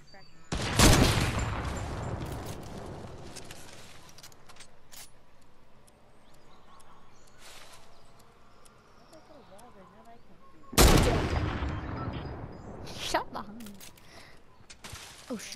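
Video game gunfire in a tense match: two loud bursts of shots, one near the start and another around the middle, with quieter scattered shots and a voice talking in between.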